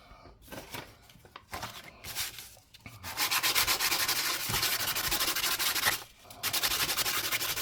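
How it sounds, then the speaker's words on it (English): Fine sandpaper rubbing over a bronze Irish half penny coin ring, a close, steady scratchy sanding that starts in short strokes and then runs loud and continuous with one brief pause. "this sandpaper's like very, very fine"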